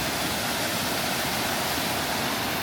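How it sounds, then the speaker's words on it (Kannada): Rain-fed waterfall beside Kavaledurga Fort pours in a steady, dense hiss, loud and unbroken from start to finish with no voices. "ಈ ಥರ ಫಾಲ್ಸ್ ಫಾರ್ಮ್ ಆಗಿದೆ."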